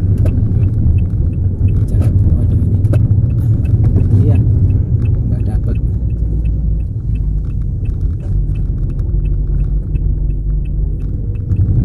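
A car climbs a hill behind a truck on a rural road in Indonesia, its engine and road noise a steady, loud low rumble throughout with no break.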